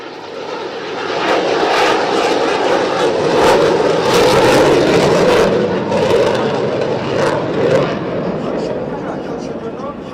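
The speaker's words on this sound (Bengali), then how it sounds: "সুধীমণ্ডলী MiG-29 বিমানটি প্রদর্শন করছে স্লো স্পিড হ্যান্ডলিং ম্যানুভার।" A MiG-29 fighter with RD-33 engines flies a slow-speed handling manoeuvre over a parade-ground air show, a loud, sustained jet roar that swells and holds with a crowd murmur beneath it.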